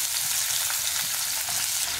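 Sliced onions fry in hot oil in a wide pan for a vegetable biryani, a dense, steady, crackling sizzle with faint stirring clinks and no voices.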